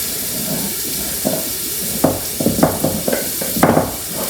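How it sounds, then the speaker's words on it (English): Diced yellow onion dropped into a hot pan for sweet potato curry, soft frying hiss broken by several sharp clattering stirs and scrapes in the second half, close and fairly loud. "you're gonna throw in your diced onion"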